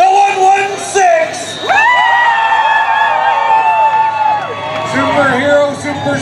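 A crowd at a best-in-show event in Brooklin, Ontario, lets out loud whoops, shouts and cheers in waves, with a voice carrying over the noise.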